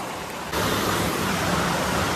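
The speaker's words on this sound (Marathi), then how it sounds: "पाऊस तर जाम पडायला लागला." Heavy monsoon rain pours down in a steady broadband hiss, swelling suddenly louder about half a second in and staying dense and even to the end, with no voices.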